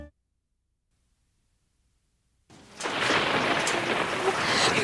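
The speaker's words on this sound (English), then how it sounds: "Comes the rain. We need a hat." After a stretch of near silence, steady heavy rain with rumbling thunder starts abruptly and continues loud and broadband to the end.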